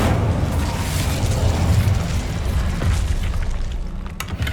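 An Incendio fire spell cast in Hogwarts Legacy, a steady, roaring whoosh of flame with low rumbling bursts, loud and continuous, with no talking over it.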